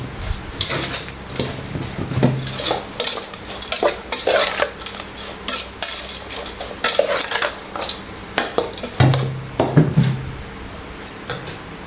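Cricket and mango salad being stirred in a bowl, with spoon clinks against the dish and scraping knocks coming in uneven bursts through the clip, close and moderately loud, with no talking.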